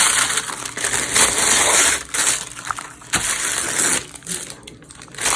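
Crinkly paper crackling and tearing as two stuck sheets of coffee-dyed deli paper are slowly pulled apart, with sharper snaps near the end; close and fairly loud, no talking.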